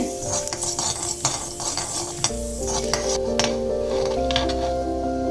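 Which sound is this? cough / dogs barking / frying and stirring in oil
frying and stirring in oil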